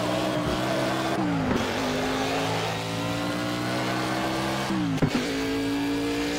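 Race car engine from the video game Project Cars, a loud high revving drone heard from outside, with two sharp gear shifts and pitch drops, no speech.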